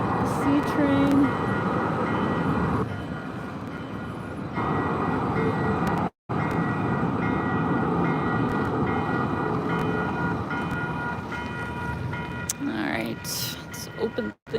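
A Calgary CTrain light rail train passes on a snowy city street, a loud, steady rumble and rail roar filling most of the stretch, with a short break and a fading rattle near the end.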